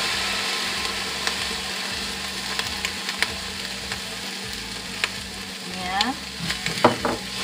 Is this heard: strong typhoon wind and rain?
no